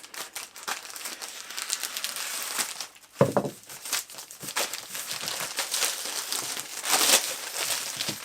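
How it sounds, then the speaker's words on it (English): A plastic shipping bag is cut open and handled, giving close, dry crinkling and rustling throughout with a brief sharper snip and crackle near the middle. "Just cut the bag open."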